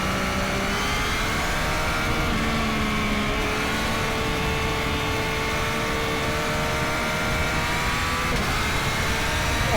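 A Yamaha MT-09 SP motorcycle accelerating hard on the road, its engine note rising and shifting through gears in a loud continuous howl heard from the rider's position, with wind noise underneath.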